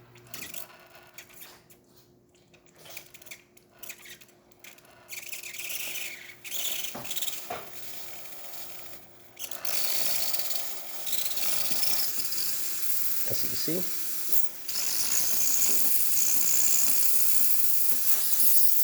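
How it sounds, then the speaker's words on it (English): A Breville Barista Pro steam wand, freshly serviced, sputters with quieter spitting bursts at first, then settles into a loud, continuous close hiss of steam. A person briefly speaks over it. "Then we are going to test the steam function."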